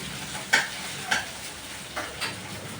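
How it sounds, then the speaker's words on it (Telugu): Green chillies and tomatoes fry in a pan with a steady low sizzle, broken by a few short scraping stirs at irregular intervals. "పచ్చిమిరకాయలు వేగిన తర్వాత ఇవి కూడా వేసుకొని వేసుకోవాలి చూడండి టమాటాలు"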